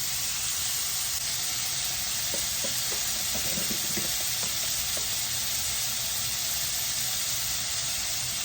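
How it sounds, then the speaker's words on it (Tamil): Tomatoes sautéing in a pan, a steady soft sizzle and hiss that runs unbroken, fairly quiet, with a few faint stirring taps partway through and no talking. "தக்காளி அது கொஞ்சம் வதங்கினா போதும்"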